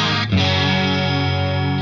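An electric guitar played through a TC SCF chorus pedal rings out as a sustained, shimmering chord with a thick, slightly distorted warble, close and alone.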